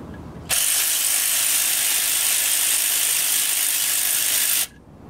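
A ratchet wrench spins off engine bolts on a 2.0T TFSI engine during misfire repair work, making one loud, continuous rapid clicking whir that lasts about four seconds and then cuts off abruptly.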